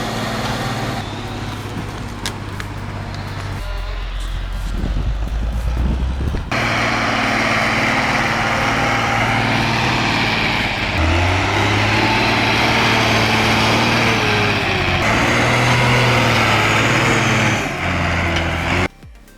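An Ursus 1614 tractor labors under a heavy load of logs, its engine droning and rising in pitch as it strains against the transmission, loud and close, with shifting mechanical tones and rattles throughout.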